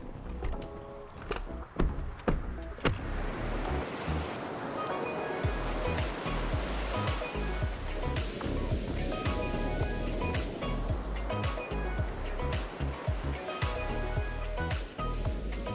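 Continuous roar of surf washing onto a beach, loud and close, with a broad rushing wash and no talking.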